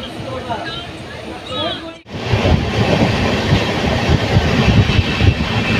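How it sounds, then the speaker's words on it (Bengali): Passenger train bound for Shalimar rumbling along the rails, loud and close, with rhythmic clatter and rolling wheel noise that jump up after a brief dip, and a voice over the first seconds. "দেখতে দেখতে আমাদের ট্রেনেও ছেড়ে দিয়েছে"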